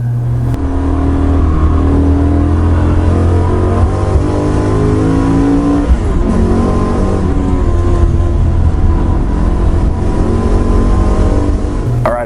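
A 2024 Ford Mustang Darkhorse on a race track, its V8 engine droning loud and steady as it accelerates, with the pitch shifting slightly as revs change, and no voices.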